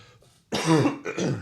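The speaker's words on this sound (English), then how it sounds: "I coughed into the mic." A single cough into a close microphone during sports talk about the Panthers, a short, loud throat-clearing burst standing alone.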